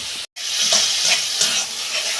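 Onions with a spoonful of ginger paste sautéing in a pan for chana masala, a steady close hiss of frying after a brief silent break, with faint stirring swells and no voices.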